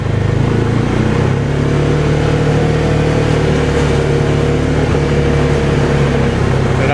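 A 2023 Argo Magnum XF 500 side-by-side drives along with its engine droning loud and close, a sustained low motor roar under faint wind noise and no clear change in pitch.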